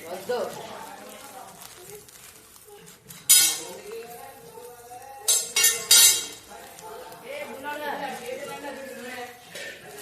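Sugar being added to a pot of boiling milk with vermicelli, with sharp metal utensil clinks and scraping in bursts over a low simmer, and someone talking throughout.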